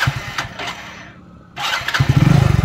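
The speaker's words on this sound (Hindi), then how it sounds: "तो बाइक की आवाज़ आप थोड़ी बहुत देख रहे होगे, सुनने में आ रही होगी" A motorcycle engine fires up and settles into a rough, pulsing idle close by, with a brief lull before the throbbing grows louder.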